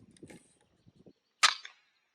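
A Brocock Atomic air rifle fired at a ground squirrel on a warm, humid high-mountain hunt, a single sharp, close crack preceded by faint rustling.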